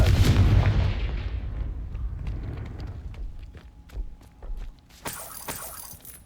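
Confringo fire spell cast in Hogwarts Legacy: an explosive boom that rolls into a long fading rumble, followed by scattered crackling impacts and a bright burst near the end.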